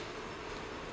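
Simulated train rushing past in a car crash video game, a dense, steady broadband roar lasting about a second with no talk over it.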